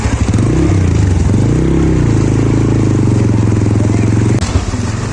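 A motorbike engine idles and revs with a steady low throbbing drone along a rural road near a wetland, close and loud, shifting pitch early on, with people talking over it.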